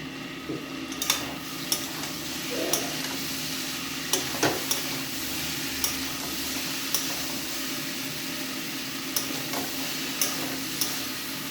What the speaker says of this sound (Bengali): বন্ধুরা, আলুটা ভাজা ভাজা বসিয়েছি, চলো তোমাদের দেখাই।